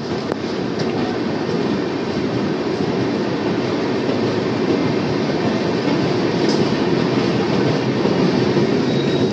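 The 12814 Steel Express pulls out of Jhargram station toward Howrah with a loud steady rumble of wagons, faint clickety-clack and brief wheel squeal, heard from on board and with no talk.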